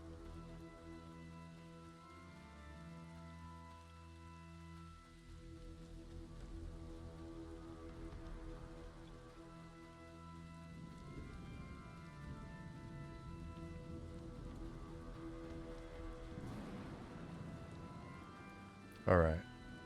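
Steady rain falling in the Scarwood zone of an MMO video game, a continuous soft hiss of drops behind a sustained musical backdrop and people talking, with a brief sharp knock near the end.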